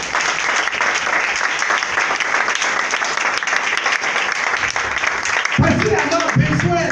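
A church congregation breaks into sustained, dense applause that fills the room, with a few louder swells and voices mixed in near the end.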